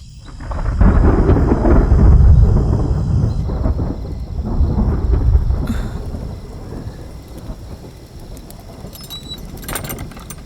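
Heavy thunder rumbles with steady rain outdoors, swelling in two long rolling waves before easing to a softer patter, with no voices.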